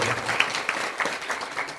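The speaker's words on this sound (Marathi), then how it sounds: "म्हणून त्याच्यासाठी एका जोरदार टाळ्या वाजवा." An audience at a retirement ceremony for a forest worker claps steadily together, a dense, even patter of applause that holds throughout.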